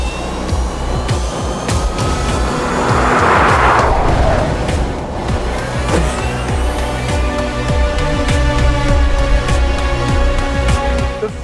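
A Lucid Air electric car launches hard from the line, its loud motor whine climbing steadily in pitch over rising road and wind roar, continuous and close throughout.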